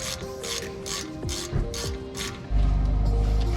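Rapid ratchet clicking from a hand wrench loosening the brake caliper bolts on a Pontiac G8, steady and close, followed by a heavier low rumble toward the end.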